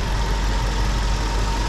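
A Hyundai H1 van's G4KG engine, suspected of a blown head gasket, idles steadily and loudly at close range, a continuous even drone with no voices over it.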